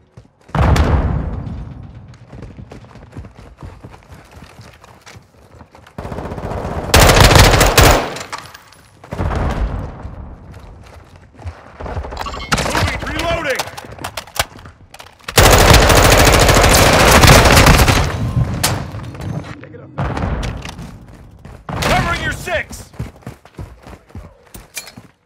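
Heavy automatic gunfire in the shooter Modern Warfare 2, with long loud bursts of rapid shots alternating with shorter volleys and scattered single cracks, close and dense throughout with brief gaps between engagements.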